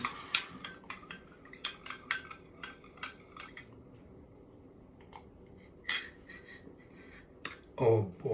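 A spoon mixes raw unfiltered golden blossom honey into homemade cashew milk, giving a run of light metallic clinks and taps against the container, with a louder knock near the end.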